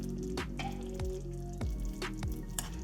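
A small splash of water goes into a pot of Jamaican-style steamed fish with soup broth, landing as a few close, brief drips and squishy splashes over a steady low sizzling simmer.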